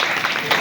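An audience at a Kartik katha gathering in a Geeta Bhawan temple claps together, a dense continuous wash of applause, fairly loud and close, with speech faintly mixed in.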